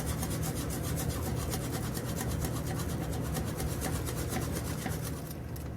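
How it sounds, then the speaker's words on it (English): A whisk scraping steadily and rhythmically in a pot as flour is stirred into boiling water and butter over heat, a close, continuous rasping stroke with no talk. "So you want to keep the heat going and slowly whisk in this flour."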